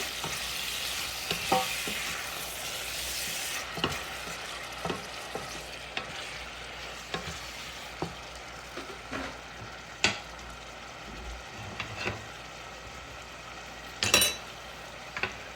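Stirring in a frying pan with garlic, salt and oil for a sweet pumpkin and shrimp curry: a soft continuous sizzle broken by repeated sharp scrapes and taps of the spoon, close and without talk.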